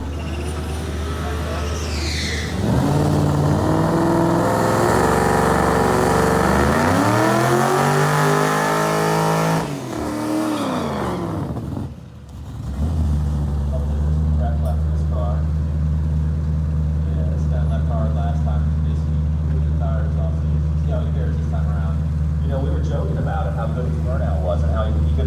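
A muscle car does a burnout at a drag strip, its engine roaring loudly and revving up and down for several seconds before settling into a lower idle, with a voice talking over it.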